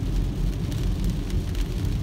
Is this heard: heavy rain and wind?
yes